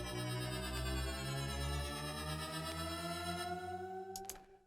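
A synth patch from the Arturia Analog Lab plugin plays a sustained, bell-like tonal chord with stepping low notes beneath it, loud and alone, then cuts off.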